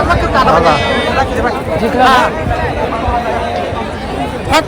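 A huge crowd at the Pusegaon Hind Kesari wrestling ground, dense babble and cheering voices filling the air with occasional louder bursts, someone talking over the din.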